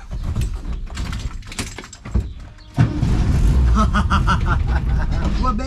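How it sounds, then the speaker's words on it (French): A car engine cranks and catches partway through, then settles into a steady, close idle, with talk and handling noises before it starts. "Je crois que c'est la bagnole que j'ai qui démarre le mieux"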